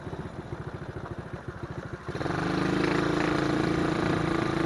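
A motorcycle on a night ride chugs with a rhythmic, pulsing engine note, then rises into a louder, steady drone as it picks up speed.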